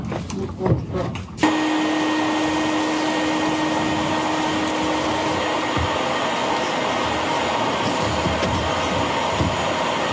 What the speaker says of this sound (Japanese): かわいそうだけど一回掃除機かけちゃうか。